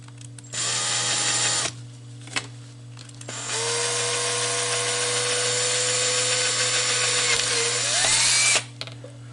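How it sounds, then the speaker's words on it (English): A power drill whirs in a short burst, then runs steadily for several seconds, its pitch rising as it bites through a plastic portable fan housing before stopping abruptly. "So I'm going to drill a hole"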